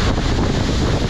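The Baahubali waterfall roars as a loud, dense, steady rush, heard up close with heavy wind buffeting the microphone and no voices.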